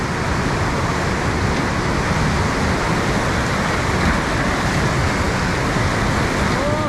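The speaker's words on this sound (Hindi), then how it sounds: "यहाँ पूरा पानी घुस रहा है, यहाँ पूरा पानी" Floodwater pours into a house in a Tibetan colony in Kullu, Himachal Pradesh, as a loud, close, unbroken roar of rushing water that holds steady for the whole stretch.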